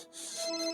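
A cellphone ringtone plays alone, a steady bright electronic melody with sustained tones rising slightly in level over a brief moment.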